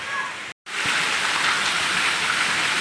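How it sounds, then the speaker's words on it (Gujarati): Rain pours onto a village street in Gujarat, a dense, steady roar of falling water broken only by a brief moment of silence near the start. "જોઈ લો વરસાદ."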